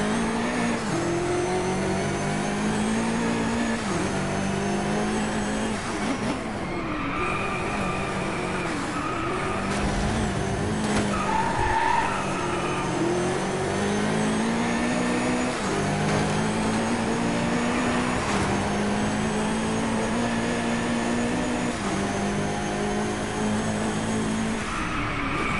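A Mini John Cooper Works races in the video game Driveclub. The engine drones and rises and falls steadily through gear changes, with some tire noise, continuous and loud throughout.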